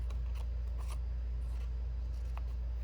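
Scissors make a few quiet, short snips into the center of stacked paper flower petals, crafting a 3.5-inch mini flower, over a steady low background hum.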